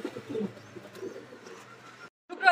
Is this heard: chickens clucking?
no